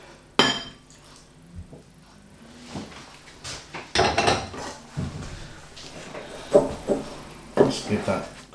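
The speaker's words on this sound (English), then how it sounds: "Just give that a good stir, get it all evenly mixed." Biscuit crumbs being stirred into melted butter: irregular clinks, scrapes and knocks of a utensil against the container in short bursts, fairly close.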